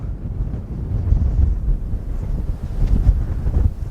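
Strong wind on open Dartmoor moorland buffets the microphone in a steady, low roaring rush with gusty swells, no voices present.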